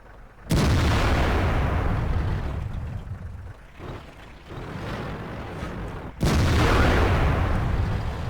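An IS-4 tank fires HEAT shells in the World of Tanks video game: two heavy booming cannon blasts, one near the start and one near the end, with rumbling echoes and lower engine-like roar between.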